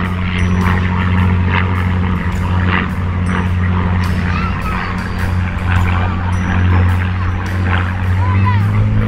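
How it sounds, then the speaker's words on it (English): A Supermarine Spitfire flies over castle gardens, its propeller engine a loud, steady low drone through the whole stretch, with bird calls and faint background voices on top. "There are quite a lot of Spitfires around here."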